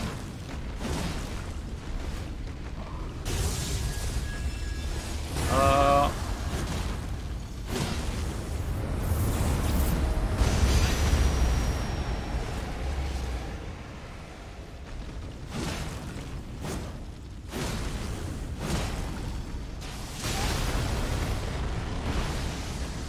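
A dragon's fire attack from Dragonlord Placidusax during an Elden Ring boss fight, a sustained roaring, booming rush of flame with bursts and a whoosh, loud and continuous over game noise.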